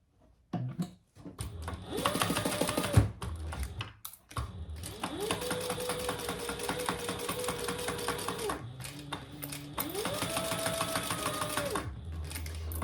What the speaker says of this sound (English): then we are going to top stitch that at 1/8 of an inch seam allowance